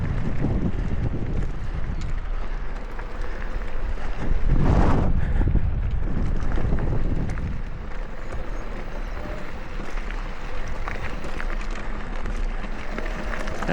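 Steady, loud wind roars across the microphone while a rider descends a mountain bike trail from Ash to Kings Canyon, the buffeting swelling to a peak midway and then continuing without talk.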